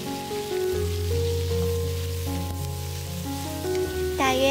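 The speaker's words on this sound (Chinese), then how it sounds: "再把蒜苔加进来翻炒" Garlic scapes stir-fried in a wok over high heat, a steady dense sizzle lasting throughout with background music layered over it.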